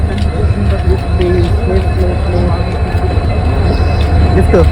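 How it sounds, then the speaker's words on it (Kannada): A train rumbles steadily close by, with rail clatter and faint screeching over a heavy low drone throughout. "ಇಲ್ಲಿಂದ ಎಸ್ಕೇಪ್ ಆಗೋ ಟ್ರೈನು ಬರ್ತಾ ಇದೆ."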